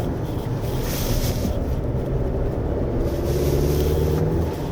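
Steady low roar of all-terrain tires on a 2025 Chevrolet Colorado Z71 rolling over pavement at speed, a continuous broadband rumble that holds even throughout with no breaks.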